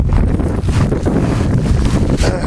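Steady wind buffeting the microphone while descending Mount Etna, a loud continuous rumble with gusty low-end roar throughout, no voices.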